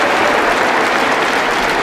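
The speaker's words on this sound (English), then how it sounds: "Gets a round of applause instead." A darts crowd in Hull breaks into loud, dense applause during a World Masters match, a brief, full wash of clapping close by.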